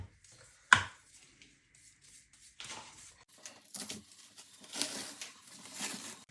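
A knife cuts into a whole jackfruit, one sharp thunk followed by quieter scraping, rustling and cutting sounds from close by, with no talking.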